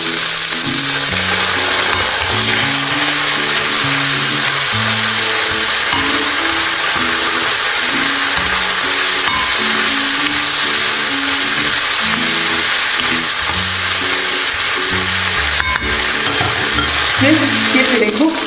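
Curry paste sautéing in a pan for a vegan massaman curry, a steady close sizzle and fry with stirring scrapes running throughout, under a continuous tonal music bed.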